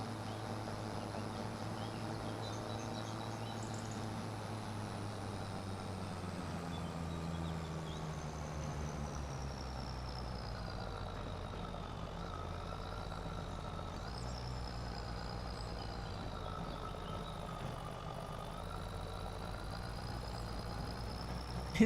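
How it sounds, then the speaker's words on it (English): A tractor engine in the video game Satisfactory drones steadily, its pitch sagging and laboring as it strains up a slope, continuous with no talking. "It sounds like my poor little tractor is just like dying on some of these slopes."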